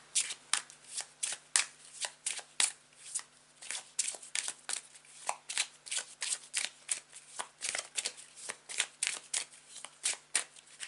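A deck of tarot cards is shuffled and handled in a long run of crisp, rapid riffles and snaps, close and clear, with no speech over it.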